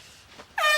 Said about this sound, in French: Ça fonctionne, c'est mon nouveau klaxon.